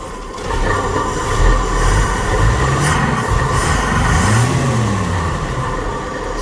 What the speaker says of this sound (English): The bearing is going out in my fan. It's loose and you can hear it